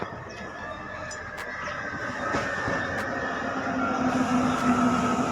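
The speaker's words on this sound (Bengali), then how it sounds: "ওভারব্রিজের উপর দাঁড়িয়ে আছি, আর ঢুকে গেছে আমাদের হাবড়া লোকাল ন্যানো কোচ।" A Habra local train with nano coaches pulls into a station, heard from an overbridge as a steady, fairly faint rumble and rail clatter with a thin wheel squeal building toward the end.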